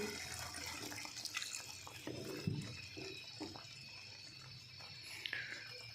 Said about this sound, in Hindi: अब इसमें आधा कप पानी शामिल कर देंगे।